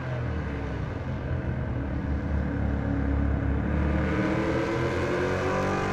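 Race car engines in a racing video game roar steadily and loudly at Virginia International Raceway, a dense continuous rumble with rising and falling revs, no voices.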